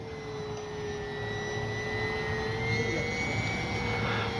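An FMS Cessna 182 RC model airplane drones steadily in flight, its engine tone holding constant with a slight rise partway through, heard alone at moderate distance.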